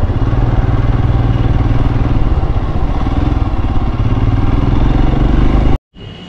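A Royal Enfield Himalayan BS6 motorcycle engine runs close by with a loud, steady, thumping idle and mechanical clatter, cutting off abruptly near the end.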